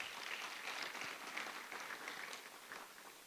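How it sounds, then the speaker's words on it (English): A conference audience applauds at a research and innovation event, a faint, even wash of many hands clapping that stays steady from start to finish with no voices over it. "Let's clap for them"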